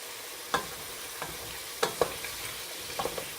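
Ground beef browning in a pan for hamburger soup, stirred with a utensil: a low steady sizzle broken by several distinct scraping knocks, close and fairly quiet.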